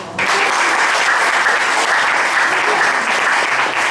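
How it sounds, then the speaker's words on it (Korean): Loud, even applause from a classroom audience before a student's final presentation begins, clapping rising abruptly and holding steady without pause. "박수 쳐주세요."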